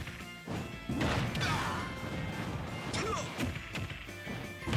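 A down smash lands in a Super Smash Bros match, a sharp crash over a busy stream of game effects and crowd noise. It is fairly loud and sits inside the general game din.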